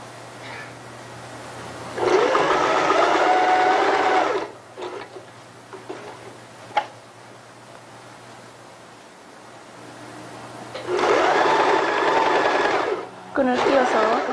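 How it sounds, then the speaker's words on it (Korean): A sewing machine runs in two loud, steady bursts of stitching on a newborn's baby garment, with quieter handling noises and a short click between them and a brief third burst at the end. "박음질 시작하세요."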